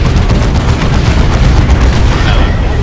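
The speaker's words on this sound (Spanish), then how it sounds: "Venga, Tarkus, dispárale ahí un plasma" A plasma weapon fires in the video game Warhammer 40k Chaos Rising, heard as a loud, continuous booming blast with a low rumble and crackling bursts for the whole stretch.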